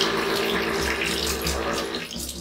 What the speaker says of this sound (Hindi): इसे बहुत आसानी से इतने बड़े वाटर कैन से पानी निकाल सकते हैं